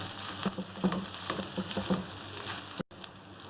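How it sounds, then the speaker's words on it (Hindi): Minced meat and chopped green chillies sizzle in a pan, stirred with soft, irregular scraping over a steady frying hiss, close and without talk, ending in a brief cut. "मिक्स करेंगे।"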